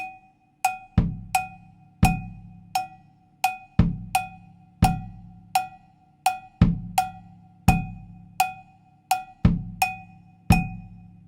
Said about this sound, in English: you do have the option of playing the full bass drum tumbao,